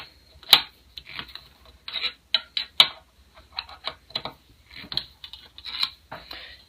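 Small Allen driver loosening fence screws on an Incra joinery system, a run of sharp, close metallic ticks and clicks in an irregular rhythm with quiet gaps between.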